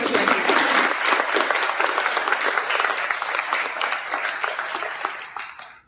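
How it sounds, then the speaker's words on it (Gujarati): An audience claps for a film's producer at a movie promotion event at an ITI college. Dense, loud applause from a large crowd holds steady, then tapers off at the end. "સાહેબને એક વખત જોરથી તાળીઓ"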